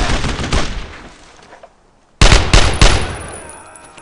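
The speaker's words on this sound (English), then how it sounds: "Incoming fire!" Gunfire in Brothers In Arms: Road To Hill 30, loud close bursts of rapid automatic shots, then a short lull and a second sharp volley fading into ringing echoes.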